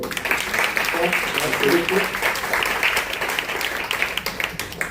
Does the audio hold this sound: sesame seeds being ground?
no